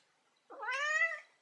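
A single close cat meow, clear and drawn-out, rising then holding before fading, in an otherwise quiet room.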